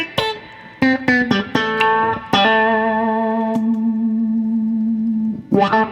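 Electric guitar played through a modern Mutron-style envelope filter pedal, with a booster behind it: a run of quick plucked notes, then a long sustained note, each with a swept, wah-like filtered tone, and a few fresh strums at the end.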